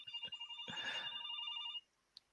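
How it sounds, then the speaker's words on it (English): A phone rings with a repeating electronic warble that runs steadily for almost two seconds before cutting off, followed by one brief faint blip. "my phone is going off"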